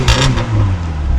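A small 2-liter engine of a newly acquired car revs loudly and steadily after starting, a close, continuous engine roar with some clatter, heard alone.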